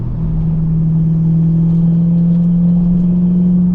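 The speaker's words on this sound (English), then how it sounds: "the car's just moving a little bit" Inside a car on a sweeping bend, a steady engine drone carries a strong constant low hum, loud and unbroken, with no talk.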